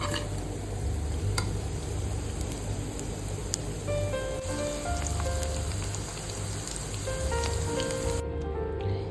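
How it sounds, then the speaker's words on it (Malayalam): Steady, dense sizzling and crackling of soya chunks deep frying in hot oil, continuous and fairly loud throughout, with no voices. "ഈ സോയ ഫ്രൈ ഒന്ന് വറുത്ത് കോരിയിടാം."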